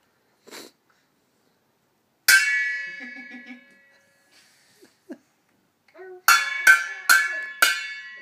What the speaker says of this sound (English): Some people celebrate with banging pots.